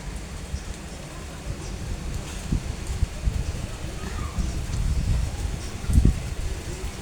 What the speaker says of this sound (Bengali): এই তো জোরে বাতাস উঠছে, বৃষ্টি শুরু হয়ে গেছে অলরেডি